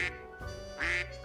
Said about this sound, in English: Can I quack?